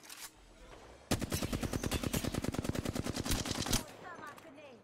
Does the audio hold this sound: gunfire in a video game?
yes